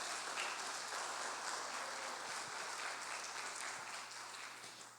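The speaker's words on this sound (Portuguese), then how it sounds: "bata as palmas para Ele" Church congregation clapping hands together during a sermon, a continuous wash of clapping from a large room, fairly distant and even, easing off slightly at the end.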